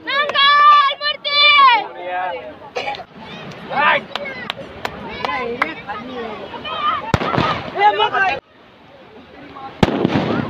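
Firecrackers burst at a Ganpati visarjan gathering: several sharp, loud bangs ring out among excited children's shouting and chatter close by.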